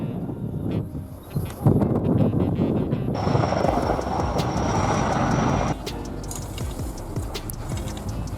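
An S-64 Skycrane firefighting helicopter drones with a dense, steady rotor and engine roar that stays loud throughout, with wind noise and a shift in tone partway through.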